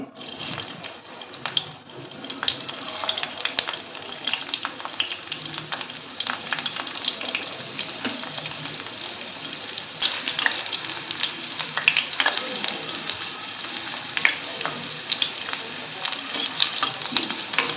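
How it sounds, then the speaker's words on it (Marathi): Crushed garlic frying in hot oil for Maharashtrian methi bhaji, a steady dense sizzle and crackle running close and continuous with occasional sharper pops and stirring scrapes. "इथे मी लसूण थोडासा ठेचून घेतलेला आहे आता मी तेलामध्ये घालते"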